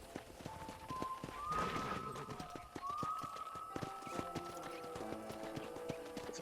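Horse hooves clip-clop in a steady walking rhythm in the Western video game Red Dead Redemption, close and moderately loud, with a soft whinny and faint game music tones layered underneath.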